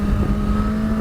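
A Suzuki GSX-S1000GT motorcycle engine runs at a steady drone with a strong low hum, a smooth continuous note heard close and moderately loud without speech.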